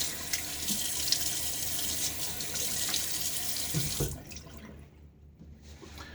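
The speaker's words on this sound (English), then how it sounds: "I'm going to get some water on my face." A tap runs in a steady, close hiss of flowing water, then shuts off abruptly, leaving near quiet with faint drips.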